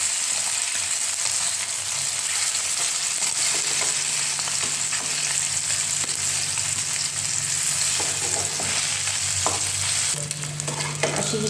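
Mandeli fish crisp up after being flipped in a hot pan: loud, continuous sizzling and spitting oil up close, with occasional stirring scrapes and no voices.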